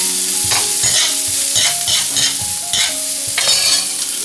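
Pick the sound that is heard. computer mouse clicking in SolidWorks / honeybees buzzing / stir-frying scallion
stir-frying scallion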